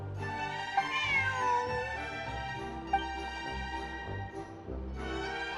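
A cat in the video game Genshin Impact meows in a drawn-out, whiny voice, a couple of plaintive calls heard clearly and close up over a quiet background.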